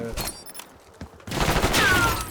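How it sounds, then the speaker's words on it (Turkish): Submachine gun bursts rattle in a Call of Duty: Black Ops 6 multiplayer match, rapid fire clustered in the second half at moderate loudness, with quieter game sounds earlier. "Patır kütür vuruyor silah."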